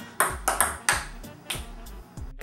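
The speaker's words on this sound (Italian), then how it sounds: "Sono riusciti a riprodurre un pezzo del tema di Super Mario giocando a ping pong senza nemmeno averlo fatto apposta." Ping pong balls bounce back and forth in a quick rally, each hit a bright, hollow ping at a slightly different pitch, forming a short tune that recalls the Super Mario theme. About eight clear strikes, close and alone.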